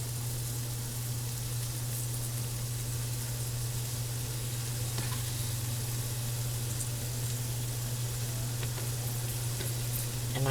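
Potatoes and sausage sizzle steadily in a single pan, a dense continuous frying hiss with a low steady hum underneath, close and fairly loud, no voices.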